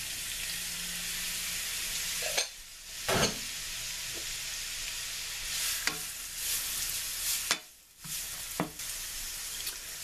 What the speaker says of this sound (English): in a large skillet, there we have the stir-fry oil and the sesame oil hot over medium-high. So let's start our stir-fry.